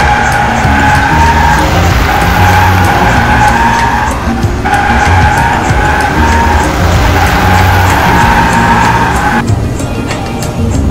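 In GTA 5, a car does a burnout on grass, its engine revving hard with a continuous skidding tyre squeal, loud and close, the pitch dropping briefly at a couple of points.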